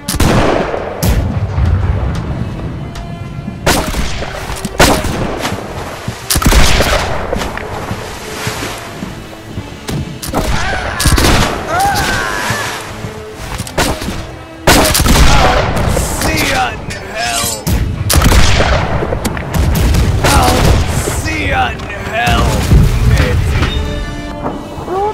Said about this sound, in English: Stop shooting the guns. Now you can shoot the guns.